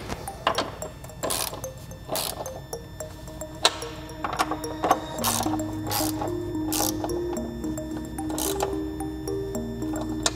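Ratchet clicks and metallic ticking as the clutch master cylinder bracket nuts on a Subaru BRZ / Scion FR-S are tightened onto their studs, with repeated sharp bursts of clicking over a steady low hum.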